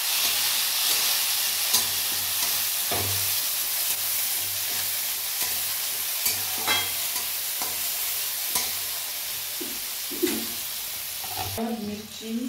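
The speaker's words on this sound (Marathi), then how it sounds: "टमॅटो पण टाकायचे आणि चांगल्या प्रकारे मिक्स करून घ्यायचे आहे." Onions with tomatoes and carrots fry in a pan for spicy vermicelli, a constant hiss and sizzle broken by intermittent scrapes and taps of the spatula, with a little talk near the end.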